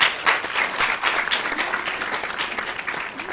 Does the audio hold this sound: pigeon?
no